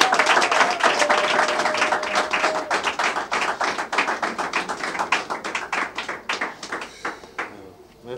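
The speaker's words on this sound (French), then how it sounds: "On les applaudit." An assembly in the DRC gives a round of applause, a dense, rhythmic patter of hand claps that builds and then thins out toward the end.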